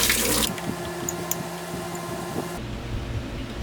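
Coolant pours from the lower radiator hose of a 2004 BMW 325i E46, a close, steady gushing splash that eases into a lower, continuous trickle, with no one speaking.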